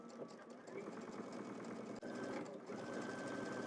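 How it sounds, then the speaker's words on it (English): Sewing machine running steadily as it stitches along a crease on a double-breasted jacket, a continuous close whirring hum with one brief pause near the middle. "Okay, now let's head to the machine. So let's stitch right where that crease is."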